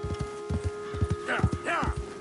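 Horse hooves clip-clopping at a walking pace in Red Dead Redemption 2, a regular close rhythm of hoof strikes while a character speaks over them.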